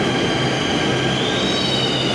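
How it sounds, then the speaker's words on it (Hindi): A New Delhi metro train pulls in with a loud rumble and a high, drawn-out squeal of wheels on rails, with no talking. "मेट्रो आ गई"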